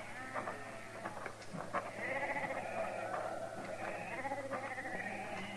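A flock of sheep bleats repeatedly outdoors, overlapping calls of several animals at moderate distance, steady and fairly soft, with no talk.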